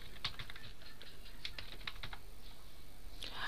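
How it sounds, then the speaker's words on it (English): Someone types a password on a computer keyboard, producing quiet, irregular key clicks in small clusters with short pauses, close but soft. "So I'm typing a password."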